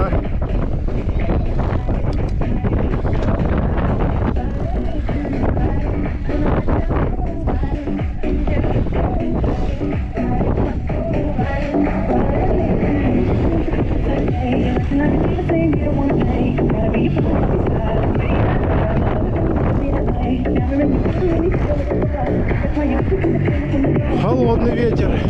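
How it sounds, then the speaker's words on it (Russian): Cold wind buffets a microphone outdoors on a Crimean coastal route in April, a constant loud rumbling roar that fills the whole stretch, with occasional voices underneath. "Холодный ветер."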